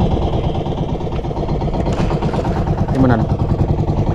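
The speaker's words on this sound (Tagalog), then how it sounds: "Nag-usok na kasi yung makina namin." An idling vehicle engine, one that had been smoking, runs steadily and fairly loud throughout, with people talking over its constant rumble.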